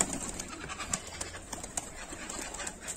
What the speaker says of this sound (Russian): Это голубь.